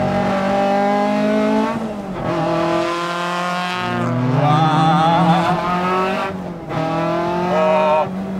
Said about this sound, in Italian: Quando va sotto i giri si sente la suonatura di macchina che vuole girare in alto.